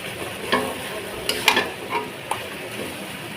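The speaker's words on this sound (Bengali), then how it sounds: "আলুটা দিয়ে দিয়েছি আলুটা দিয়ে কষাবো" Potatoes frying in a pan with spice powder, a steady sizzle broken by several sharp spatula scrapes and clinks as they are stirred, close up.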